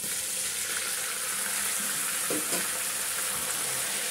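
Marinated chicken pieces fry with browned onions in hot oil for homemade chicken biryani, a continuous soft sizzle with a brief stirring clatter midway, heard alone without talk.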